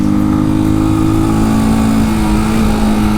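A Janus Motorcycles Phoenix 250 engine drones steadily and loudly at a constant pitch during a test ride, with wind rushing over the close, buzzy single-cylinder note.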